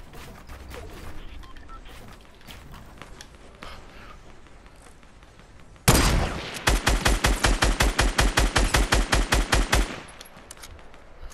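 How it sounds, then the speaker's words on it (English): Bursts of gunfire in the Fortnite video game: a loud sudden blast, then a rapid run of evenly spaced shots lasting several seconds before it stops, with quieter game sounds on either side. "why are you shooting at me from there?"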